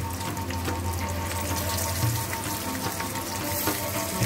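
Pomfret fish frying on a tawa over a medium flame, a steady dense sizzle and crackle of hot oil with a faint low hum underneath, continuous and close, with no talking.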